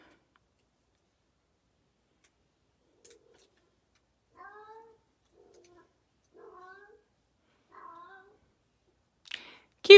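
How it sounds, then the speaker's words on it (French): Several short meows from small kittens, spaced a second or two apart, quiet and fairly close in an otherwise silent room, with a sharper clatter at the end. "Si vous voulez voir les petits chats"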